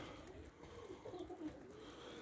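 Racing pigeons cooing inside a closed loft in Elbląg in winter, soft low murmuring coos repeating close by over a constant background hum.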